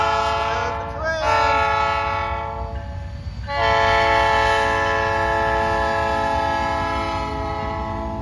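A train horn blares loud and near with sustained harmonic blasts, a brief break around the middle, then continues steadily over rail rumble as the train passes a crossing.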